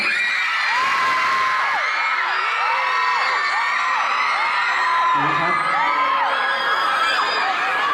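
A dense crowd cheers and whoops at a mall concert show at Fashion Island, a continuous loud roar of voices and shouts with someone talking over it.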